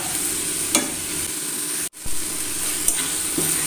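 Salted chutney ingredients sauté in a hot pan with a continuous close sizzle and occasional stirring scrapes, briefly cut by a short gap midway.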